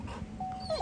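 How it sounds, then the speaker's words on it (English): Hunting dog at a quail hunting preserve whimpering as it is let out, a faint high whine rising in short thin tones over steady low background rumble. "Dog's out."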